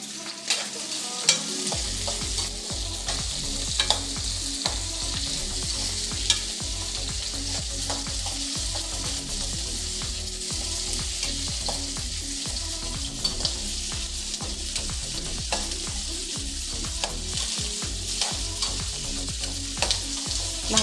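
Tomatoes, curry leaves and green chillies sauté for a prawn curry in a steady, loud, continuous sizzle, with repeated scraping and stirring knocks throughout and nobody speaking.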